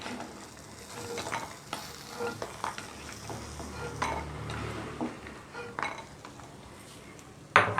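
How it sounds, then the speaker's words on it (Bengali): Fried spiced lentil dumplings (masala bori) are lifted from oil in a pan, with close metal utensil clinks and scrapes punctuating a soft, steady sizzle and a sharper clatter at the end. "দেখুন এটা খুব সুন্দরভাবে লাল লাল করে ভাজা হয়ে গেছে। আমি এবার এই বড়িগুলোকে তুলে নিচ্ছি।"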